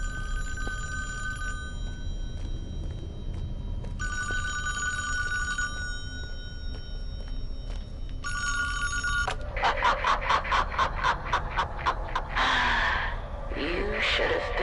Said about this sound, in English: And the phone's ringing again.